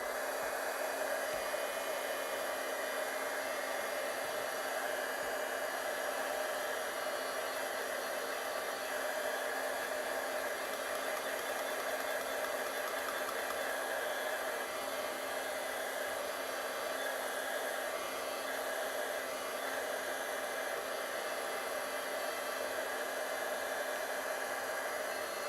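A hair dryer blows steadily and close for the whole stretch, drying a wet watercolor painting of a bird nest, with a constant airy whoosh and a faint motor whine and no voices.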